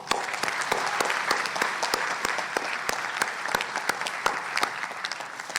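Sustained, even applause from a commencement audience honouring economics thesis writers, a dense wash of clapping from a large crowd with a few sharper claps standing out throughout.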